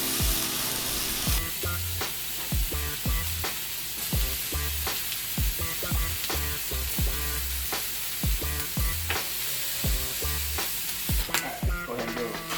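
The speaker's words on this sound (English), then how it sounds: "I have some smoked cured ham that I'm gonna be putting on the Blackstone" Smoked cured ham sizzles loudly and steadily on a 36-inch Blackstone griddle, with a spatula scraping and tapping the flat top in frequent, irregular bursts. Nobody speaks.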